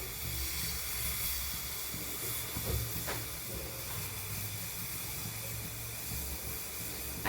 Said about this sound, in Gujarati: આપણે એકદમ સરસ ઉકાળવાનો છે